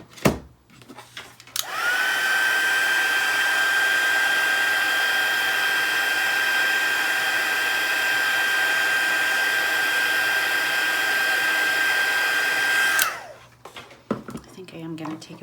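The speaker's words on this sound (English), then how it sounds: "we'll hit that with the heat tool one more time" A heat tool drying watercolour paint blows a steady, loud whirring hiss with a constant high whine for about eleven seconds, starting and stopping abruptly, with brief handling noises before and after.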